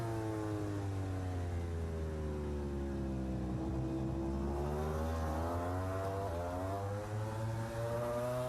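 Ducati V4 MotoGP racing motorcycles scream past during an Argentine Grand Prix sprint race, a steady high-pitched engine whine rising and falling as bikes battle, heard throughout at moderate level.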